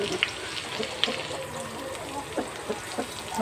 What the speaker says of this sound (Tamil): குடமிளகா நல்லா வதங்கினோன்னே வெங்காயம் நல்லா வதங்கட்டும்